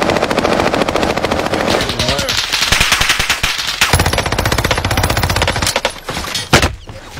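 Sustained machine-gun fire and overlapping gunshots in a battle royale video game, loud and rapid throughout, with a helicopter-like drone underneath and voices talking over the shooting.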